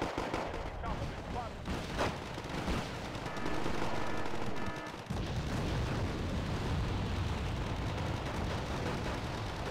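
Wargame Red Dragon battle gunfire crackles in dense bursts mixed with heavier booms and rolling explosions, a continuous loud firefight with a voice faintly underneath.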